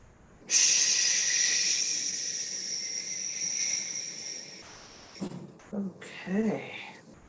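A long, deep qigong breath fills about four seconds with steady, close, airy rushing that fades gradually. Short murmured voice sounds follow.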